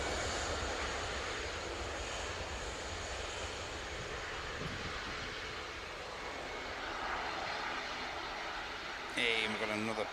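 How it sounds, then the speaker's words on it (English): A jet airliner departs Manchester Airport on a flight to Orlando, its engines making a steady, broad roar that swells and fades gently, with talk over it. "And we've got another beautiful aircraft on the way out."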